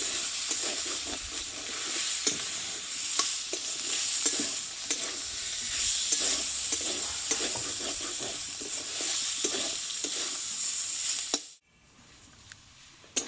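Boiled potatoes are stir-fried with spices in a pan, a steady close sizzle with repeated spatula scrapes and stirring strokes, cutting off abruptly near the end.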